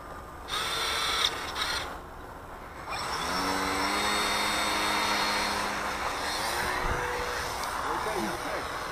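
A Tower Hobbies P-51 radio-control model plane engine drones steadily at a distance through most of the clip, its pitch shifting as it flies past, with wind noise and people talking nearby.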